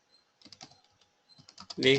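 Someone types on a computer keyboard in quick, light clusters of keystrokes with short pauses, close and fairly quiet, in a quiet room, before a voice starts speaking at the end.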